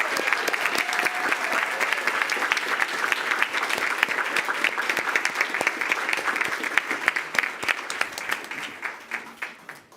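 A crowd applauds steadily for several seconds, dense clapping that gradually thins and fades toward the end.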